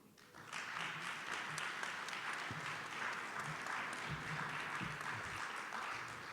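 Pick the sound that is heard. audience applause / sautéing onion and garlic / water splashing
audience applause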